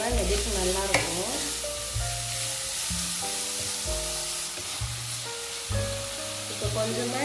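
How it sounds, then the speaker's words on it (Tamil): Sliced onions sautéing in a hot pan for a bread chilli dish, with a steady sizzle and repeated scraping strokes of a spoon stirring throughout. Low tonal hums sit beneath the frying, and no one speaks. "இப்போ நம்ம இந்த ஆனியன் எல்லாத்தையும் போட்டுக்கலாம். ஆனியன் நல்லா வதங்கணும்."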